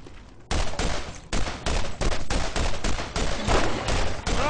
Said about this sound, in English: Oh yeah, using a shotgun.